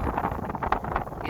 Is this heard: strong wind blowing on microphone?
yes